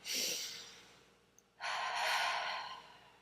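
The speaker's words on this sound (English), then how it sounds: "let's just take a deep breath" A person takes a deep breath, a soft inhale followed after a short pause by a longer, fuller exhale, close and quiet.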